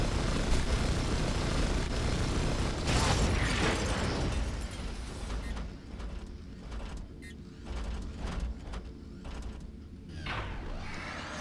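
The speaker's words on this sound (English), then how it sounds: "That last explosion knocked out the power in my area." Explosion in the video game Red Faction 2, a loud burst of blast noise that rumbles and decays over several seconds, followed by scattered crackling debris and lower rumbling.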